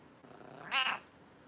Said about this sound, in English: Cat's name, her name is Magu.